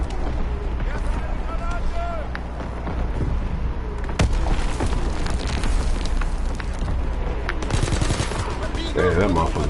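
Rapid automatic gunfire from a PS4 shooter game crackles in loud bursts throughout, mixed with explosions and game effects, while a player talks over it.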